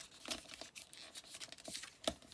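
Paper flaps are folded down by hand, giving soft, close crinkles and light rustling taps in irregular bursts, faint overall.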